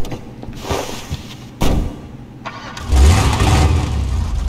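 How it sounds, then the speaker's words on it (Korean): A truck engine in the GTA 5 video game cranks and catches, then settles into a steady, loud idle rumble, heard alone without talk. "제가 엔진 소리 한번 들어볼게요"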